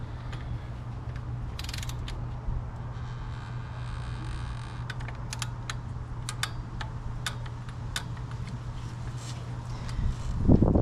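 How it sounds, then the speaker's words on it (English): A wrench tightens ignition coil bolts on a 2009–2015 Toyota V6 engine, giving faint metallic ticks and clicks over a steady low hum, fairly quiet and with no voices. "You're gonna torque this down to 7 foot-pounds."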